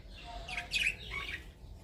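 A heavy pearl cockatiel gives two or three brief, faint chirps over a low background hum, with no voices.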